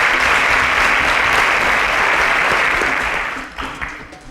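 A quiz show audience applauds a contestant who has won a semifinal slot, loud, dense clapping that holds steady and then tapers off toward the end.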